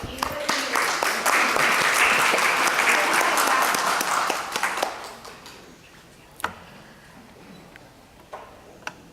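Applause from the audience at a book presentation, a full burst of clapping for about five seconds that quickly thins out, leaving a few scattered claps and small knocks in a quieter room.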